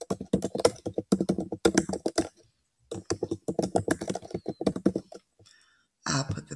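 Fingers type on a computer keyboard in two quick runs of close, crisp key taps, separated by a short silence, with a few stray clicks afterward.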